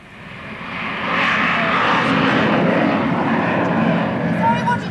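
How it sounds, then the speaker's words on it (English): An airplane flies overhead on a flight path near a suburban home, its engine roar swelling quickly to a loud, steady drone that holds throughout. "I said we seem to be on the flight path again today. I wonder who was in that plane."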